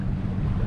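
Steady wind rushes and buffets across the microphone throughout, a constant low roar with no clear gaps, outdoors in Florida alligator country.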